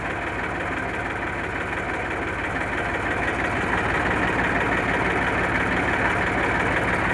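An Eicher 380 tractor with a Ricardo engine idles steadily and close by, a low, continuous throbbing drone that runs unchanged throughout with no voices.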